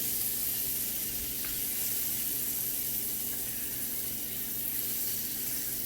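Butter sizzling in a skillet as it melts and coats the pan before eggs go in, a steady soft hiss running throughout at moderate level with no talk.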